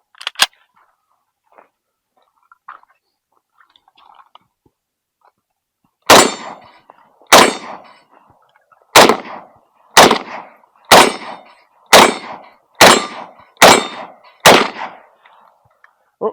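An SKS rifle fired outdoors, nine loud sharp reports spaced about a second apart in a steady rhythm, each with a brief ringing tail, after a quiet stretch with one earlier shot and faint small sounds.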